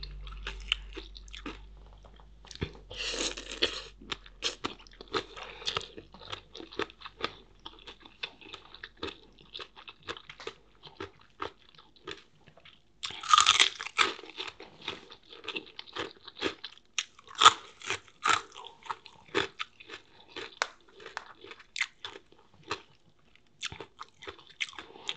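Crunchy eating of a spicy Thai lobster papaya salad with crisp pork rinds and crunchy vegetables: steady close chewing and biting crunches, with a few louder bites standing out, and no talking.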